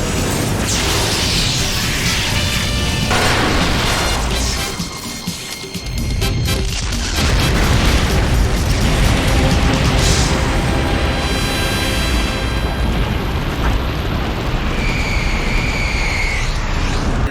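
Loud, sustained blast from a nuclear explosion in a Gundam anime episode, a dense roaring rumble with crashing layers that briefly dips then swells again and keeps booming for many seconds without any speech.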